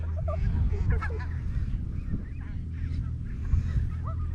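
Geese honk repeatedly over a low rumbling background, the calls coming in scattered bursts at moderate distance, with some faint voices.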